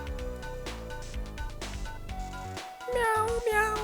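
Kitten meows from the Dragon Ball Z video game Das Erbe von Goku sound over busy game music and effects, with a clear high mewing cry near the end.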